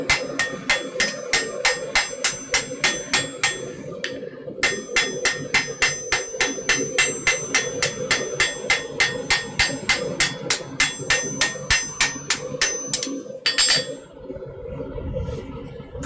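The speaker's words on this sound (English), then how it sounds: "I think I'd rather just swing a hammer." A blacksmith hammers metal in a smithy while shaping a piece to round, with a steady, rapid series of sharp ringing strikes. There is one short pause partway through, and the hammering stops near the end.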